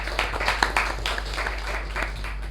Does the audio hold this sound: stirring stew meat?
no